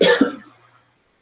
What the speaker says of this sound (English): Excuse me for coughing right in your face.